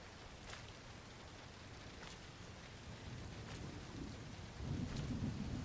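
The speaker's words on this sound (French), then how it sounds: "quand il y a une pluie et qu'il commence à y avoir un peu de l'orage" Steady rain hisses throughout while low thunder rumbles and grows louder toward the end, with no voices, in the video game Road 96.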